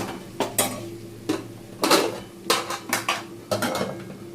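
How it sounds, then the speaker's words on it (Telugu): A metal spoon scraping and clanking in a pan while stirring crab fry with turmeric, a series of distinct close taps and scrapes at an irregular rhythm, no voices. "వేసాను కదా, ఇవి కొంచెం తిప్పుతున్నాను."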